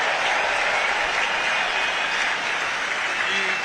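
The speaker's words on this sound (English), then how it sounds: "Huge applause." Dense crowd applause fills a rugby stadium during a Northampton Saints versus Barbarians match, a steady broad roar of clapping that holds at full strength throughout with no breaks.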